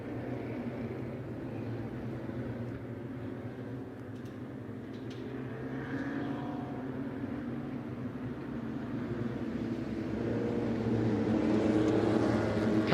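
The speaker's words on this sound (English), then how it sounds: "Cars coming to the line for the pre-66 Grand Prix race" Pre-1966 Grand Prix racing cars, rear-engine Coopers among them, rumble toward the start line at Silverstone, a low, steady engine drone at middle distance that swells and grows louder toward the end.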